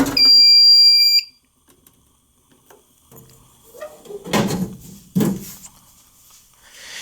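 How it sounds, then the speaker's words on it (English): An alarm panel gives a loud, piercing electronic beep for about a second, then stops, followed by faint clicks and a couple of short thumps nearby. "For some reason, this panel over here is beeping."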